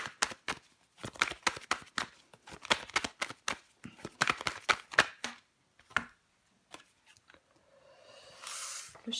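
Tarot cards are laid down and handled on a table in quick, crisp slaps and flicks in irregular clusters, close and fairly quiet, followed by a short stretch of soft rustling shuffle.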